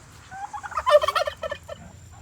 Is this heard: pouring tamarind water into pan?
no